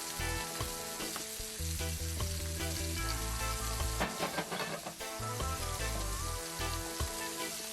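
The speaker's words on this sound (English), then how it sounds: "right here you see me flipping on the shrimp, trying to get an even cook on each side, even crust on each side" Shrimp sizzling loudly in a hot pan with Cajun spice, steady frying crackle throughout with occasional clinks and stirring as the pieces are flipped to brown each side.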